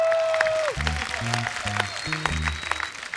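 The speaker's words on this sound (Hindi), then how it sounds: "इनके लिए जोरदार तालियां।" Studio audience applause on a Hindi comedy talk show, clapping spread across the clip and heard under loud music with a beat.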